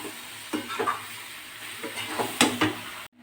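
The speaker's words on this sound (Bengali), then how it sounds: "এবার মটরটার মধ্যে মশলাটাকে ভালো করে মিক্স করে নেব।" A utensil stirs spices into boiled peas and potatoes in a hot pan for motor ghugni, giving a soft sizzle under scraping and occasional clinks of metal, close and steady until it cuts off abruptly.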